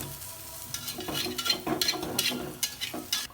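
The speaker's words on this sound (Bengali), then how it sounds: "আমি শুটকিটাকে উল্টিয়ে দিচ্ছি।" Dried fish (shutki) sizzling in a frying pan, with a spatula scraping and clinking as pieces are flipped; close, moderate crackle with irregular scrapes and no talking.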